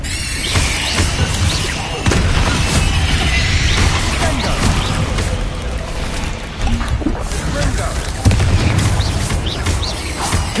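Confringo fire spells burst repeatedly in Hogwarts Legacy, loud booming explosions and thuds layered over continuous battle noise, with sharp new blasts near the start and again later.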